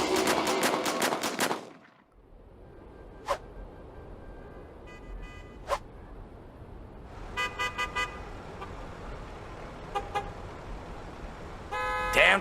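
Car horns honking in a traffic jam on the Golden Gate Bridge in San Francisco during a zombie attack: several short horn toots over a steady rumble of traffic, following a loud opening burst.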